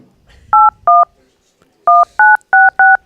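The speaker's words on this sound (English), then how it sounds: "if you can pick up those tones, then you just got his phone number" Telephone keypad dialing tones during a phone call: two crisp beeps, a pause, then four more in quick steady succession, loud and clear with no talking over them.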